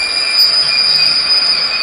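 A train pulls out of the Mysuru goods terminal after a green signal, its wheels letting out a loud, continuous high-pitched squeal over a steady close rumble, with no voices.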